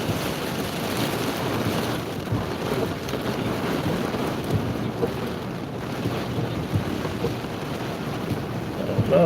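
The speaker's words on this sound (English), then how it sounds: "And the wind is really picking up." Strong wind drives rain in a sustained roar during a tornado outbreak storm chase in Dixie Alley, gusts buffeting the microphone and surging louder toward the end.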